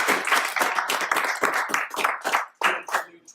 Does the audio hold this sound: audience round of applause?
yes